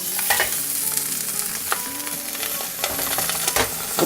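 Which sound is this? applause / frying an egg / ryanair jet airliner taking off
frying an egg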